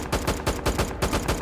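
Rapid gunfire with third-person recoil from the video game Due Process, a quick burst of about eight evenly spaced shots firing close and crisp, with no talk over it.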